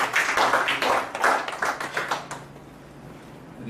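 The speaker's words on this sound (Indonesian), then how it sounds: "Tepuk tangan untuk Paulus." An audience claps for Paulus at a church gathering, a burst of scattered hand claps that thins out and stops after about two seconds, leaving a quiet room.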